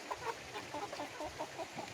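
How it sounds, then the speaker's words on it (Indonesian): Free-range village chickens cluck softly and repeatedly inside a coop, a gentle, irregular chatter of several birds heard close but quiet. "kandang ayam kampung"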